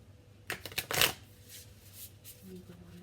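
Tarot cards are shuffled near a lit candle: a quick burst of papery riffling and flicking, then softer rustles, faint and close with a low room hum.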